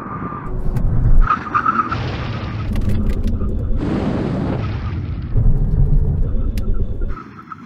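A car engine roars at 70 mph, then a long harsh skid of tyres under full emergency braking, with a voice speaking briefly over the noise.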